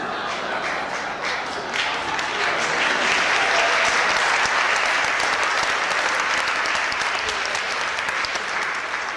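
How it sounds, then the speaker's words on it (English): Sustained audience applause at a 1988 Philadelphia Orchestra retirees and friends dinner, steady, dense clapping from a large room that fills the whole stretch at a loud, even level with no speech. "Applause"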